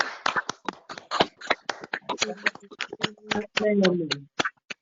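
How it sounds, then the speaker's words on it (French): A church congregation at an evening worship service claps in a steady, rhythmic beat of sharp, close hand claps while a voice sings or speaks over it. "Applaudissons pour notre Seigneur."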